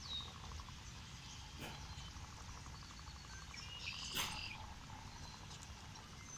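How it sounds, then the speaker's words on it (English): A northern leopard frog gives a faint, low, snoring croak in a pond at night, with distant frog and insect chirps and a few brief sharp calls around it. "This is the sound of the northern leopard frog."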